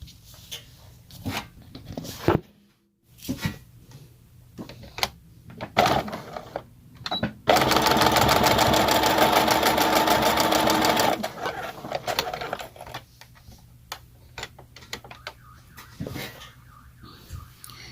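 A sewing machine stitches a tiny dollhouse pillow sham in one loud sustained burst of rapid needle clatter, surrounded by quieter handling clicks and short stops before and after.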